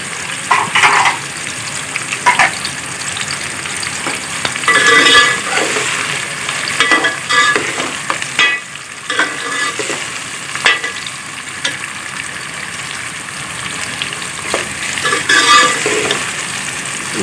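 Onions fry in a pot toward light brown, a continuous loud sizzle broken by repeated scraping and clattering stirs, close up with no talking.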